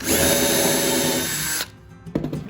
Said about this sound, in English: Now I'm going to take a small drill bit, drill a hole,